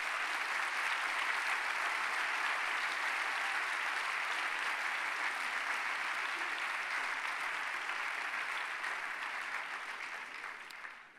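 Steady audience applause at an evening public debate fills the room evenly for about ten seconds, then thins and fades out in the final moment.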